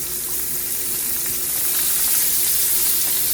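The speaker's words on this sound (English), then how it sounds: "I left about 1/2 of a tablespoon of the bacon fat in my skillet. And the next thing I'm going to do is I'm going to add 2 tablespoons of butter" Two tablespoons of butter melt into about half a tablespoon of leftover bacon fat in a skillet, giving a loud, steady, close sizzle that holds without a break.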